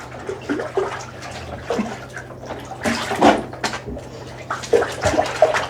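Tap water runs and splashes in a motel bathtub while dishes get a pre-rinse, with uneven gushes and clatter close by and no voices.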